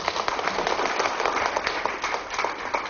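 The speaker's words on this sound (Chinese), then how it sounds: "掌声鼓励" An audience at a lecture hall talk bursts into steady applause, many hands clapping densely together for the full few seconds, close and fairly loud, with no voices over it.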